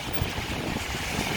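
Wind gusts buffet the microphone while walking outdoors in rain in Streeterville, downtown Chicago, a dense rushing roar with low thumps.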